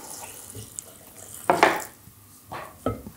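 Water is poured into a blender holding dates and cashews for a raw vegan cashew-raspberry yogurt, coming as a few short, close splashing bursts with no talking.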